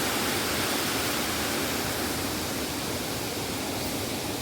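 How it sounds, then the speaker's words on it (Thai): Rushing water from the second tier of Jet Sao Noi waterfall in Saraburi, Thailand, roars in a dense, steady wash of noise, loud and unbroken, with no voices. "ตอนนี้ก็เป็นน้ำตก ชั้นที่สองนะทุกคน"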